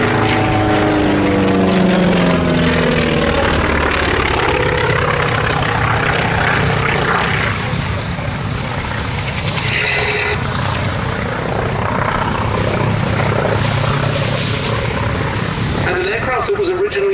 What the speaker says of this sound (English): a nippy little naval fighter from the Grumman Iron Works